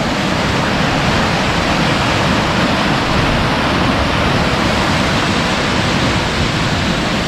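A Himalayan mountain river near Chopta rushes loudly and close by, a dense, unbroken roar of churning water holding steady throughout with no voices.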